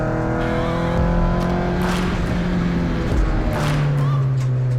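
Turbocharged Mazda MX-5 on a race track at Broadford, its engine droning loudly and steadily with shifting pitch and brief tyre noise, a voice faintly present beneath.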